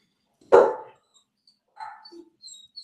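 Dogs at home let out one sharp, loud bark, followed after a pause by a few softer, shorter yelps and whimpers, with no talking.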